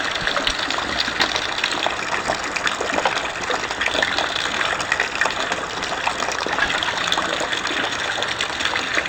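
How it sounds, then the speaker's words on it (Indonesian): Heavy rainwater gushes from a single downspout, a loud, steady, close splashing rush of water that never lets up, with no voices. "akhirnya air mengalir ke sini semua ya"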